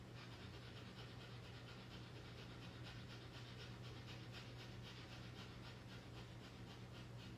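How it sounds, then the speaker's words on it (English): Rapid sniffing breaths through the nose during a yoga session, a quick, even, continuous rhythm of short airy pulses, close and quiet, with a low steady hum behind them. "Breathe very fast in the nose again, like a sniffing dog"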